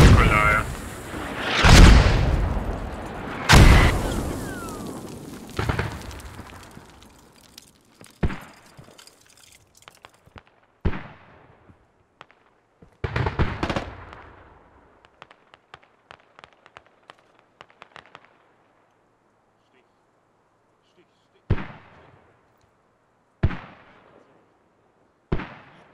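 Gunfire and explosions in the military shooter game Squad: a few loud, close blasts early on, then scattered sharp shots and bursts, and later three isolated heavy booms separated by quiet stretches.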